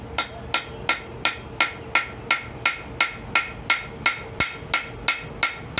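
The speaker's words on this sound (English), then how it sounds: "I'm hitting straight down on that rivet" Ball-peen hammer striking a copper rivet for a coffee scoop, about fourteen sharp metallic taps in a steady, evenly spaced rhythm, close and clear with no talk.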